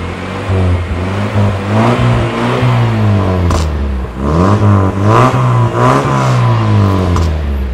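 A Toyota Corolla SE with a racing exhaust revs loudly and close up, its engine note climbing and falling in repeated throttle blips over a continuous rumble.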